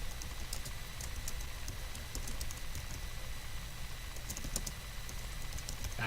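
A git commit message is typed on a computer keyboard, heard as quiet, uneven bursts of key clicks over a low background hum, with no talking.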